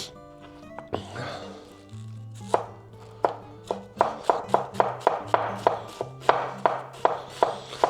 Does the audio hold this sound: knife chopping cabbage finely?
yes